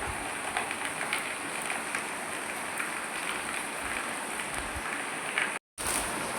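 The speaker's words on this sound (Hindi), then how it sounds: "ये काफ़ी तेज़ बारिश है। और ये जो सारे छींटे हैं वो भी काफ़ी मोटे मोटे हैं।" Heavy rain with large drops falling on a rural Rajasthan farm, a dense continuous patter and hiss close by, steady throughout apart from one brief cut near the end.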